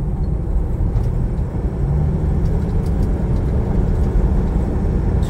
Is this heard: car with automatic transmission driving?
yes